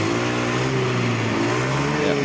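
Honda Beat ESP scooter engine running steadily and close up, a loud continuous idle hum with a slight rise in revs, heard alone.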